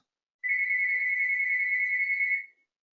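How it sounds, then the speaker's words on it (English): A home telephone rings indoors with a single steady electronic tone that holds for about two seconds before cutting off, alone and fairly clear. "Oh, now my phone's ringing at the house here"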